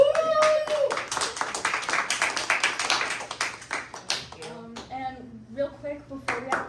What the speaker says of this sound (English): Can we get some more applause for that?